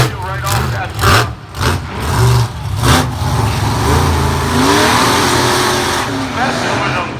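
A monster truck engine roars and revs hard at a monster truck show, loud surging bursts and sustained growl, with an announcer talking over it.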